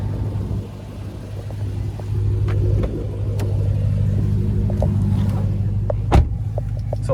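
The 6.2 liter supercharged V8 of a 2023 Dodge Charger Hellcat Widebody Jailbreak idles with a steady, deep rumble, heard from nearby with a few light clicks and taps over it.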